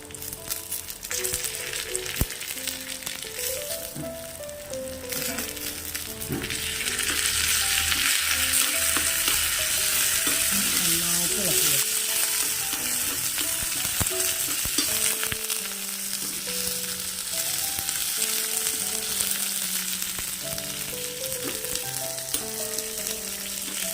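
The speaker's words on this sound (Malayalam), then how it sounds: "ഉള്ളി നന്നായിട്ട് മൂത്തുടങ്ങി ഈ കറിവേപ്പിലയും കൂടെ ചേർത്ത് കൊടുക്കാം" Sliced onion and curry leaves fry in hot oil, producing a loud continuous sizzle that swells partway through, with scraping stirs; a faint tonal music line runs underneath and no one speaks.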